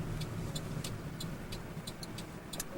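A car rolls slowly into a snowy campsite, its engine a steady low rumble close by, with faint crunching and ticking from the tires on snow.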